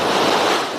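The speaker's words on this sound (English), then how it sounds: "So this is quite a noisy part of the river with noise cancelling off." A noisy stretch of river rushes loudly and close, with noise cancelling switched off on a Hollyland Lark M2 wireless microphone. The sound is a dense, steady roar of water in a short burst, with no talking.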